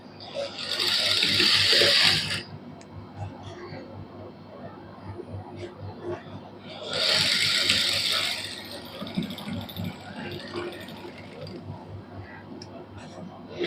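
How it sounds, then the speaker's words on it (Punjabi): A sewing machine stitches a cotton suit in two fast, buzzing bursts a few seconds apart, with someone speaking quietly between the runs. "ਹੁਣ ਆਪਾਂ ਇਧਰਲੀ ਸਾਈਡ ਤੇ ਸਿਲਾਈ ਲਾ ਦਾਂਗੇ"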